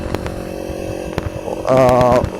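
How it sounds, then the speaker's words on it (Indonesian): A rented 250 cc motorcycle engine runs with a buzzing, raspy drone that swells louder near the end, heard close up without talk. "gue merasakan lagi betapa enaknya naik motor 250 cc itu"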